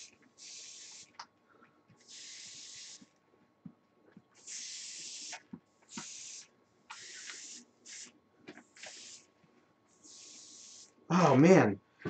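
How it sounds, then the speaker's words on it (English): An aerosol spray can paints a metal Gundam model in repeated short hissing bursts, close and steady, separated by brief pauses, with one louder, harsher sound near the end. "I need to spray it from this angle"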